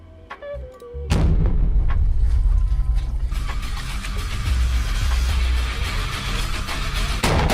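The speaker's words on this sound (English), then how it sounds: "Was that an explosion, bro? Felt like it had real concussive force." A sudden loud blast during an outdoor airsoft game in Mexico hits hard and is followed by a sustained heavy rumbling roar that lasts several seconds, with a few faint thuds in the quiet just before it.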